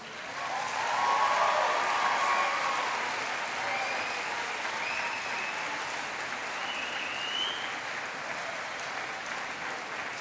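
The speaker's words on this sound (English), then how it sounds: "just give them one more round of applause, would you please?" A university graduation audience gives a long round of applause, a steady, moderately distant wash of many clapping hands that swells early and holds evenly for about ten seconds.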